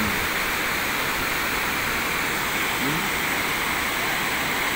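A loud, constant roar of rushing water pours over Iyao Dam in Anticala, Butuan City, a steady broadband wash with no pauses.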